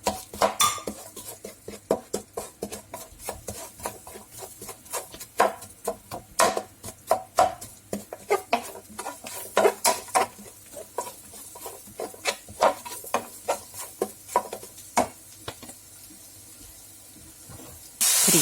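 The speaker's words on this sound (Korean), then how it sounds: "가스불을 다시 켜고 팬에 양파, 버섯을 넣고 남아있는 고기 기름과 마늘이 잘 섞이도록 볶아줍니다." Onions and mushrooms stir-fried with garlic in leftover pork fat in a pan, busy rapid clacks and scrapes of a utensil against the metal over a faint sizzle, close and continuous.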